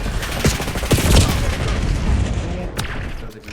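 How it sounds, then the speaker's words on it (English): A grenade explosion in Call of Duty: a loud, rumbling boom with scattered gunfire and battle noise continuing around it. "Throw the grenade fast enough."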